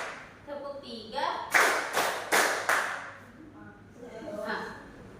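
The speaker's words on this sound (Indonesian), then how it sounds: "Tepuk satu, satu, tepuk dua, tepuk tiga" Schoolchildren in a classroom clap together on a teacher's spoken count, giving a few loud sharp unison claps in a rhythmic group, with the teacher's voice calling out before and after.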